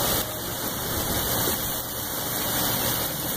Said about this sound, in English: the wind is just coming over the top of the house. You can see it just blowing.